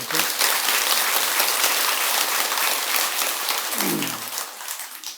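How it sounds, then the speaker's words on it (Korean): A temple congregation at a Buddhist Dharma service applauds in a dense, steady wash of clapping that fades toward the end, with a brief voice heard under it. "박수 한 번 더 치세요"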